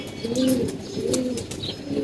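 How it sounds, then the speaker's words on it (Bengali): Pigeons coo close by, low rounded bubbling calls that repeat roughly three times over a faint background with a few light chirps. "এই যে একটা কবুতর দেখতে পাচ্ছেন দেন মাদি কবুতর"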